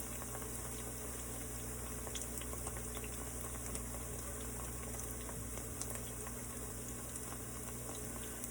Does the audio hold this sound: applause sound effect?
no